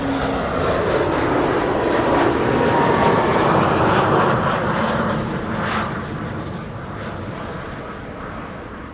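KLM Embraer 190 jet arriving at Amsterdam Schiphol on a sunny day, a loud close engine roar that peaks mid-pass and then fades as it moves away, no voices.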